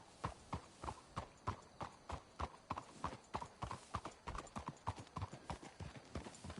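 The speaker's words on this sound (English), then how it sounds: "Let's hitch the horses up ahead." Horse hooves clip-clop in a steady walking rhythm from the Red Dead Redemption video game, crisp, close and evenly spaced, with no dialogue in the clip.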